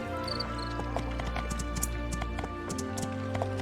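Horse hooves clip-clop in a steady trotting rhythm in the video game My Time at Portia, repeated close hoofbeats running over a bed of game music and ambience.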